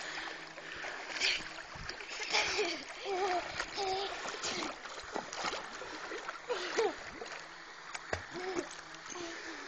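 People jump into water, with repeated splashes and sloshing amid excited chatter and children's voices close by.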